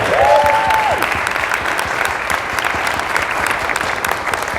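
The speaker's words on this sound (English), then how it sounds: "Give yourselves a round of applause for being here today" Audience at a personal development talk in Dallas, Texas, breaks into sustained applause, a dense steady wash of clapping from many hands with a brief whoop or whistle near the start.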